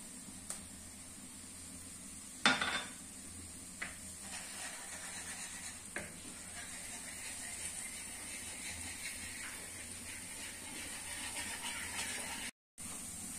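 Chicken feet in sauce being stirred in a pan, a faint sizzling hiss underlying scattered scraping clicks of the utensil, with one sharper knock early on.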